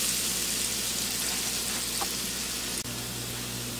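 Onions and garlic sizzle steadily in a pan on the stove, a continuous close hiss of frying with no talking, holding even throughout with one small dip near the end.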